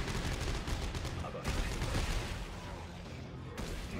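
Gunfire in the video game Dead Space 3: a dense, continuous barrage of loud shots and booms with brief breaks in the mix, faintly under voices.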